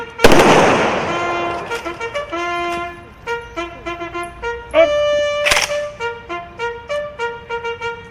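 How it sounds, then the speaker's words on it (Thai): An honor guard fires rifle salute volleys at a ceremony honoring military veterans in Lampang, Thailand. Two sharp, loud cracks ring out several seconds apart over sustained musical tones. "กองทหารเกียรติยศเตรียมใช้อาวุธยืนเตรียมยิง ยิง"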